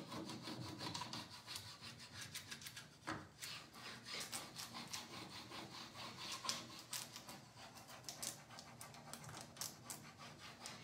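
A painted piece is rubbed by hand to distress its dots, making a quiet, continuous rhythmic scratchy scrubbing of repeated back-and-forth strokes with no talk.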